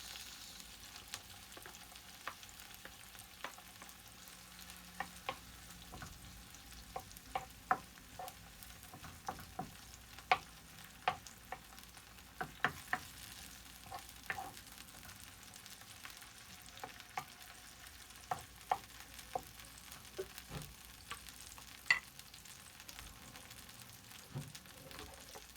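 Tomatoes and thyme sizzle quietly in a pan for a Haitian breakfast of eggs with herring, a soft, continuous fry dotted with scattered pops and crackles throughout.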